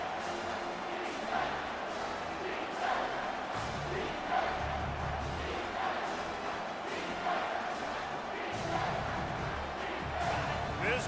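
A college football stadium crowd at an Oregon Ducks versus Wisconsin Badgers game keeps up a continuous roar with swelling surges, under a commentator's voice.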